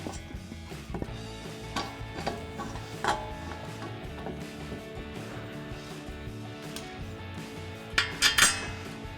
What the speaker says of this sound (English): Now we're ready to install our caliper. So we'll slide this over our rotor and line up our bolt holes.